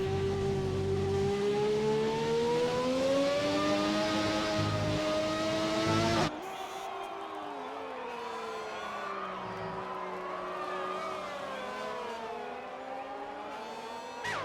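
An F1 car in F1 2020 runs a flying lap at the Belgian circuit. The engine whines high and loud, its pitch rising and falling through the gears, and it cuts to a fainter, shifting engine tone partway through.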